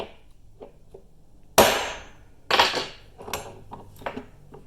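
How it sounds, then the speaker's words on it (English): Two loud metal hammer strikes land on the cap of an ATV U-joint, clear of the yoke, each ringing briefly, followed by a few lighter taps and clinks in a quiet workshop. "place the first hammer on the U-joint cap"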